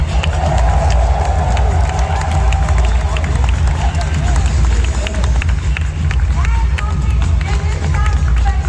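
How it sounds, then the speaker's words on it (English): A packed Hall H crowd at a Comic-Con film panel roars with continuous loud cheering and hubbub, with scattered clapping under a heavy low rumble throughout. "Huge round of applause."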